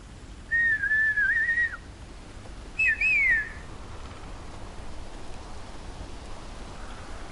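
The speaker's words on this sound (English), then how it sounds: "I thought I could whistle and I'd be able to summon some people" A character whistles in the Game of Thrones video game: a long wavering tone near the start, then a shorter rising-falling whistle, both loud over a soft hiss of rain or wind.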